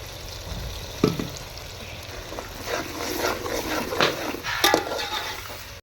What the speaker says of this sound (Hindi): हमारे प्याज फ्राई, अब इसमें हम डाल देंगे ये टमाटर और सब्ज मिर्च का पेस्ट